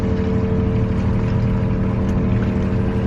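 A sailboat with one shroud missing motors under engine power up the St Lawrence River in bad weather, with a loud, steady low drone and rumble and no break throughout.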